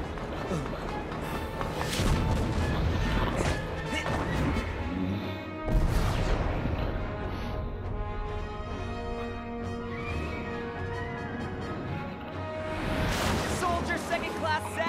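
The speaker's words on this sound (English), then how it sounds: "Rocket launchers." Rocket launcher blasts and booming explosions in Crisis Core Final Fantasy VII Reunion, loud dense crashes recurring every few seconds over a constant roar of battle noise and music, with voices talking throughout.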